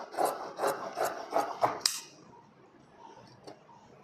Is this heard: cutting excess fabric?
yes